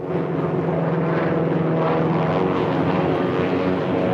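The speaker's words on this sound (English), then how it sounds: "A Zeppelin! Yep, there it is." Engines of a zeppelin airship droning steadily, a loud continuous propeller hum that stays even throughout, with no talking over it.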